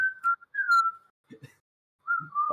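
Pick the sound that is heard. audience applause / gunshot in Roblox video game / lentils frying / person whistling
person whistling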